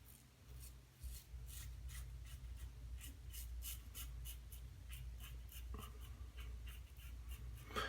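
Wilkinson Sword Classic safety razor drawing over skin lathered with Lider shaving cream, giving close, steady scratchy rasps in repeated short strokes, alone with no talk.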